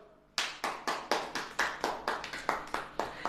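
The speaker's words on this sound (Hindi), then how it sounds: "ताली हो जाओ।" A church congregation claps in unison, about a dozen sharp, evenly spaced beats in a steady rhythm after a brief quiet start, loud and close with no speech over it.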